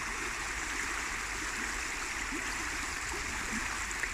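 The Trent River runs past with quite a flow, a steady, broadband rushing and gurgling that holds at an even level throughout with no voices.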